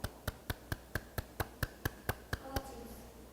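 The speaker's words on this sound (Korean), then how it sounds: "박수." A few people clapping in a civil-service English classroom. About eleven sharp, evenly spaced claps sound in a quick steady rhythm, then stop and leave faint room noise.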